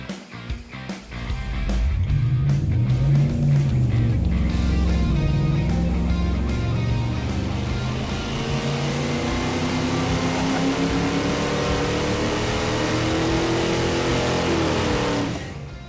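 A Chevy 350 small block V8 being rebuilt for a 1969 Camaro runs on a dyno, starting with a short burst and then holding a loud, steady rich roar that rises and falls slightly for about fourteen seconds before cutting off.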